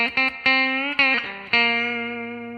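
Electric guitar lick from the last part of the third verse, played alone: a few picked, bent notes with a clean effected tone, sustaining and ringing out.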